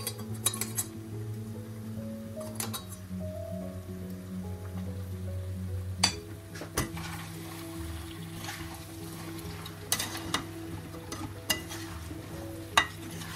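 Mutton frying in a pan with spice paste, nutmeg powder and tomato, stirred steadily, with a continuous low sizzle and repeated clinks of a spoon against the pan, close and fairly quiet, with no talk.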